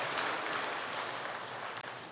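A church congregation applauds in a steady, dense wash of clapping that holds evenly throughout, with no talking over it.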